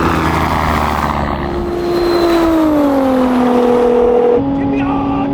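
Nissan GT-R R35 in a top-speed test accelerating at full throttle, a loud rising engine drone that climbs steadily through the gears with a shift near the end, heard from inside with excited voices over it.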